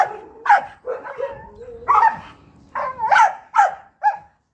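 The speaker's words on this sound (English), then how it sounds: "Look at that dog." A small terrier-like dog yaps in about eight sharp, high barks at an uneven pace, close and loud, with short gaps between them.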